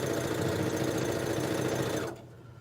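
A sewing machine stitching quilt block pieces for a Churn Dash block runs in a steady rapid whirr with a fast needle chatter, close and even, then cuts off abruptly near the end, leaving quiet room tone.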